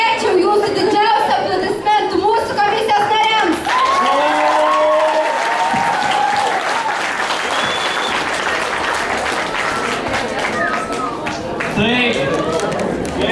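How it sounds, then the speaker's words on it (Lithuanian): Audience applause at a student initiation event for newcomers, a dense sustained clapping from a crowd that fills the whole stretch, loud and continuous, with some chatter mixed in. "Norėčiau jūsų didžiausią aplodismentų mūsų komisijos nariams."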